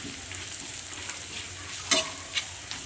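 Eggplant bharit frying in a pan with red chili powder, turmeric and salt, giving a steady soft sizzle with a few brief stirring scrapes and clicks, close and fairly quiet, with no talking.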